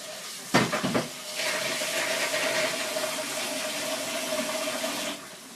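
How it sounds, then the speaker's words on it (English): Water pours into a pot of vegetables in a home kitchen. A couple of knocks come first, then a steady, close rush of water for several seconds before it stops. "I'm gonna add a little bit of water to go in there"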